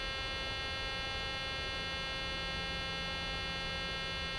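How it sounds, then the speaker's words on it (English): Steady electronic cockpit alarm tone in an ANA flight simulator game, a continuous buzzing hum held at even level for the whole stretch, with no talk over it. "I hate that alarm, man."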